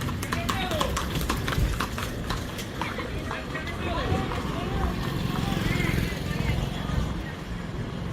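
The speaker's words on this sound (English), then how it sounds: "Then you have your horses." Horses clip-clop on a street in Varadero or Matanzas, Cuba, a steady train of hoof strikes over constant traffic and crowd noise, with people talking nearby.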